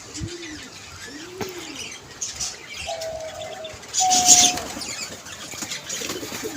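Soft coos from fancy pigeons sound a couple of times nearby in a loft, followed by brief chirps from their chicks and a light flutter against a quiet background.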